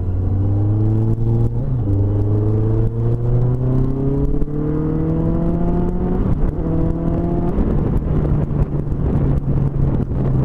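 A 4S100 GT car running on ethanol drives along, its engine droning loudly with rising tones through several gear changes under steady road and wind rumble, no talking.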